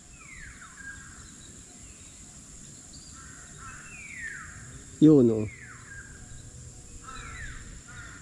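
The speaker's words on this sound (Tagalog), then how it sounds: "Ang daming ibon, no." Crows caw repeatedly outdoors among autumn trees, with several evenly spaced descending calls over steady insect buzz and one brief louder bird squawk in the middle; someone speaks briefly.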